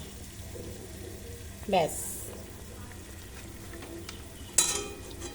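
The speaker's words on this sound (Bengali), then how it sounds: "আর ঠিক এই সময়তে আমি একটু সামান্য কাঁচা সর্ষের তেল দিয়ে দেবো।" Okra and potato posto keeps up a low, even sizzle in the pan as a little raw mustard oil is added, with two brief sharper clinks and a short spoken word.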